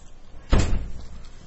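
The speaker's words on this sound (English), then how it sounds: "Abby, can you close the door, please?" A classroom door is closed with a single firm thud midway through, followed by a short resonant rumble against quiet room tone.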